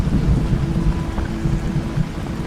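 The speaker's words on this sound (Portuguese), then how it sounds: "Enquanto a tempestade seguia rugindo acima" Steady rain with a deep, continuous thunder rumble rolling underneath, dense and close throughout.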